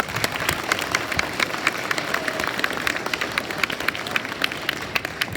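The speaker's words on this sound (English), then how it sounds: "So you can give him a round of applause." Audience applause for a police dog at a school DARE graduation in Osakis, a steady patter of many hands clapping across the room with a few faint voices mixed in.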